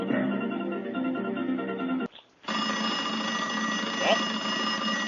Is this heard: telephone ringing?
yes